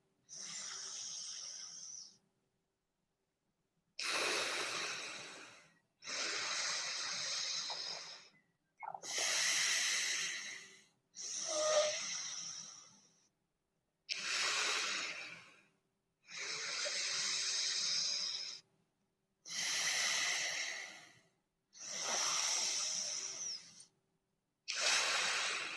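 Slow, steady yoga breaths in a calm class setting, long airy inhales and exhales alternating with short silent pauses, close and fairly loud, repeating about ten times with no talking.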